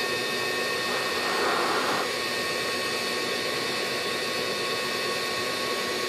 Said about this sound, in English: I'm actually going to pull a vacuum and get that last little bit of residue out of there